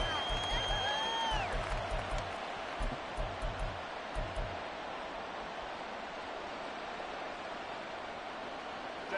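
Stadium crowd noise in a Madden 24 football game, a broad steady roar of many voices with rhythmic clapping or stomping early on that fades to a flat hum, with a whistle-like tone near the start.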